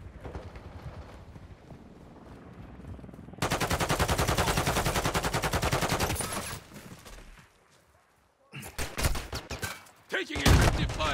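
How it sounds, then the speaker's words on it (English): Automatic gunfire in Call of Duty: Modern Warfare II, a sustained loud burst of rapid shots that cuts off, followed after a short quiet gap by further sharp volleys and impacts amid game noise. "Taking effective fire!"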